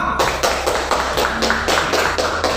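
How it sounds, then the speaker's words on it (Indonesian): Classroom applause for a student group: loud, close hand claps in a rhythmic, unison beat, several even bursts in quick succession with no talking over them. "Tepuk tangan untuk kelompok 6."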